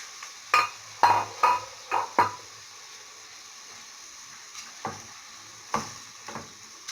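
Kefta fries among onions in a pan, with a soft sizzle underneath and several sharp scraping stirs, clustered early and then spaced out, close and distinct.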